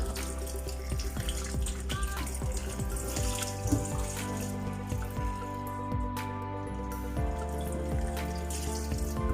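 Tap water runs steadily into a kitchen sink as chili peppers are rinsed under it, a continuous close splashing stream with small clinks and knocks from the peppers and sink throughout.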